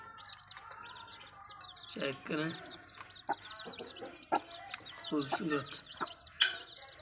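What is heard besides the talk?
hen clucking with her chicks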